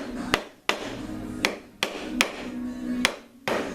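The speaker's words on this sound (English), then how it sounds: "You can take a rubber hammer," Rubber hammer knocking a handlebar part loose on a 2012 Harley Street Glide, seven firm, evenly spaced taps ringing close up with short metallic decay between blows.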